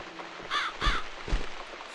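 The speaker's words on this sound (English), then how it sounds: "It's this damn bird again. Go away! Shoo!" A bird in the video game The Cat Lady gives two close, loud harsh caws in quick succession, then a softer thump.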